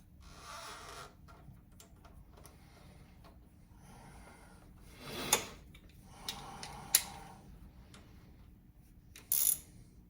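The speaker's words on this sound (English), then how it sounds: "get some ratchets so I can tighten these clamps" A ratchet wrench tightening hose clamps on an engine being installed in a 1979 Trans Am, heard as sparse clicks and a few sharp metallic bursts in a quiet garage, with no talking.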